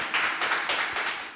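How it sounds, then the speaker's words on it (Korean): An audience at a school science information session gives a short burst of clapping, a dense spread of hand claps lasting just over a second, fairly close and without talk over it. "박수 한번 쳐드릴게요."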